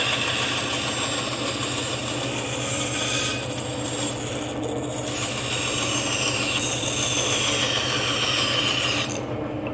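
A saw cutting out a wooden stretcher part for a footstool, a continuous loud rasping cut heard close up, with a brief change in tone near the middle and a pause at the end.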